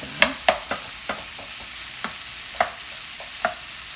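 Shrimp cooking in a pan for a milk-butter pasta, giving a steady soft sizzle with scattered sharp pops and crackles, fairly close, with no voices over it.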